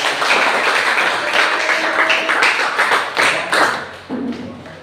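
A classroom audience gives a group applause after its presentation: a few seconds of dense, close clapping that thins out toward the end.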